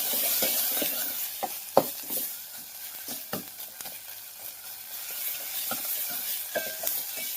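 Ground chutney spice mix roasts in a hot pan, giving a steady soft sizzle broken by occasional scraping stirs and small clicks of a spoon, with no talking.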